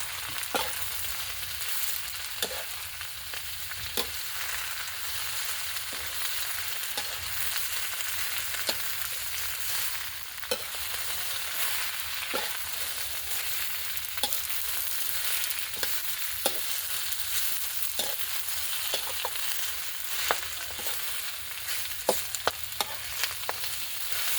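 Chinese kale is stir-fried in a wok, a constant close hissing sizzle running the whole time, punctuated by regular sharp scrapes and clacks of the spatula against the metal, with no talk.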